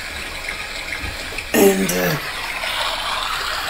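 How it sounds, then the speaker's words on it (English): A flowing brook plays as steady background water, a continuous soft rush and trickle that sits beneath a short burst of speech. "We are still listening to the sounds of the brook."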